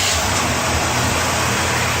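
An old car engine that sat unused for 25 years runs loud and close, a dense rough roar holding steady with no pauses and no voices.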